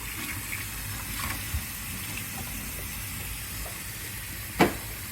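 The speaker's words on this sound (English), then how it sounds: "Over my sink, I will plug it in and I will fill it with water." Tap water runs into a plugged kitchen sink as it fills, a steady broad hiss of flowing water with a brief knock near the end and no voices.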